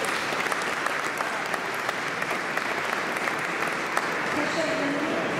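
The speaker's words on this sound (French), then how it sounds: "On peut les applaudir." A banquet hall audience at an annual dinner in the Paris Hôtel de Ville applauds steadily, a dense, sustained wash of many hands clapping with no talk.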